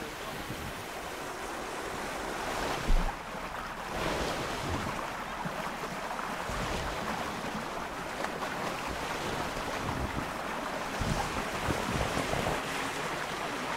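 Water flume ride in Planet Coaster 2, a continuous rushing wash of water and wind-like noise with a few soft thumps, steady and moderately quiet throughout.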